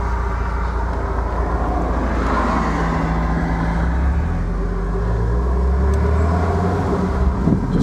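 A 1970 Mercedes 280 SL Pagoda with manual gearbox idles steadily, a close, even low engine rumble ticking over continuously for nearly eight seconds without talk.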